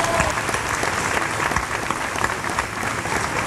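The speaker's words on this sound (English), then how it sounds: "Please give him a round of applause." Dense crowd applause fills the whole stretch with steady, even clapping at an opening ceremony for a peace run in 1991.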